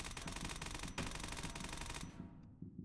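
Sustained rapid automatic gunfire as a full magazine is emptied in the Roblox shooter Task Force, dense loud bursts with no pause, then a short tail as firing stops.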